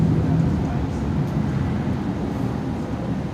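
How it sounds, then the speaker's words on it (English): Jet aircraft engine on departure at Brisbane Airport at night: a continuous heavy low roar, steady and fairly loud, slowly easing off toward the end. "Wow, almost sounds like a fighter jet."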